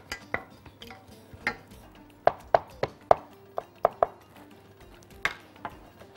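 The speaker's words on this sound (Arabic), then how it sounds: "وهجيب فصين الثوم خلاص وافرمهم فرم خشن" Two garlic cloves coarsely chopped with a knife on a cutting board: sharp, distinct knocks in an uneven run of about a dozen strikes, close and clear, with no talking.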